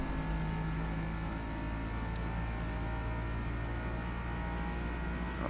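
A Bugatti Veyron in the Forza Motorsport racing game at Le Mans: a constant droning engine hum with steady tonal whine held at high speed, fairly quiet and without talk.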